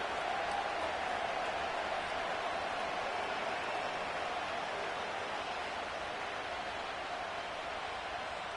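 Stadium crowd noise from the football video game Madden 25, a dense, constant roar of cheering that stays loud and unbroken throughout with no distinct voices standing out.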